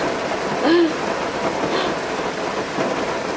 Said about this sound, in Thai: ตอนนี้ฝนตกหนักขึ้นเรื่อย ๆ แล้วนะคะ